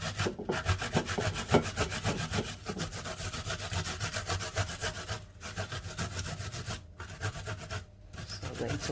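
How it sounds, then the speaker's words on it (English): Pieces of ginger are grated against a grater in steady back-and-forth rasping strokes, close and continuous, with a few brief pauses. "I am going to grate this piece of, well, these pieces of ginger."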